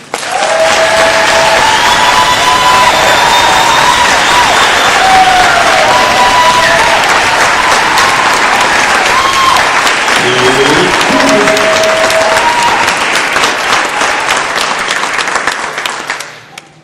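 Loud, sustained applause from a large crowd at an animal rights conference, continuous and dense for a long stretch before tapering off at the end, with some cheering in the mix.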